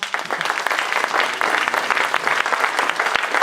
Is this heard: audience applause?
yes